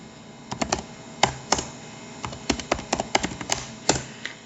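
Fingers type on a computer keyboard while entering input into a Python program, a close, uneven patter of key clacks in short bursts with brief pauses between them.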